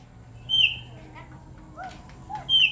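A white starling calls outdoors in the afternoon: two bright whistled notes, one early and one at the end, with softer lower chirps between them over a steady low background hum.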